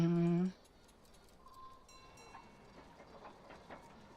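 Train in the puzzle video game Gorogoa: a loud two-tone whistle blast cuts off, then faint rhythmic rolling and clacking of rail cars continues quietly with small tonal chimes.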